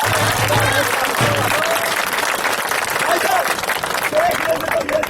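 Audience applause at an outdoor street play about corruption staged by Asmita Theatre, a steady wash of clapping with voices mixed through it.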